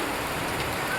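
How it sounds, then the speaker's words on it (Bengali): Rain falls in a steady, close, even hiss on a rainy day among flowers and greenery, briefly and without other sounds. "বৃষ্টি"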